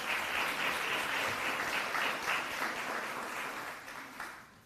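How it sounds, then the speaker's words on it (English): Audience applause at a city council special meeting in Greensboro, a dense, even round of clapping from a roomful of people that holds steady and then tapers off near the end. "Let's give her another round of applause."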